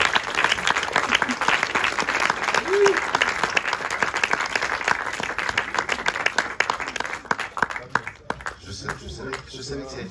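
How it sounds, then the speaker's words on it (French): An audience at a film festival debate applauds steadily for about eight seconds, a dense, even wash of clapping from many hands that thins out at the end as a voice begins to speak. "On peut applaudir."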